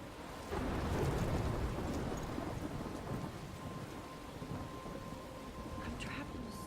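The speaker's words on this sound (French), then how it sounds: "I'm trapped in a storm?" A thunderstorm in the Life Is Strange video game, with steady heavy rain and a low rolling rumble of thunder that builds early and then holds as a dense, continuous wash.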